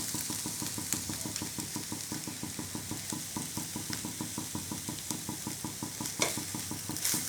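Two spoons of powdered milk being stirred into a white gourd sweet as it nears completion, with rhythmic scraping strokes of steady pace and a soft sizzle from the pan underneath.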